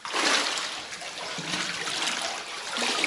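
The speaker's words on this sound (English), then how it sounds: "all the water flows down here" Meltwater trickling and splashing down into an underground bunker beneath Chernobyl, a steady close wet dribble with small splashes and no voices.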